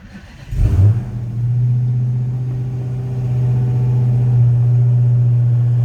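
A 2016 Dodge Challenger SRT Hellcat fires up by push button with a loud starter catch and bark, then settles into a deep, steady idle that swells slightly as it revs, close and alone.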